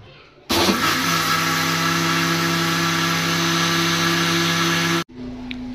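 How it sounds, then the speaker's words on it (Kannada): Kitchen mixer grinder running at full speed, a loud steady whirring motor drone that starts abruptly and cuts off sharply after about four and a half seconds. "ಮಿಕ್ಸಿ ಹಾಕೋದು ಕಂಪ್ಲೀಟ್ ಆದ"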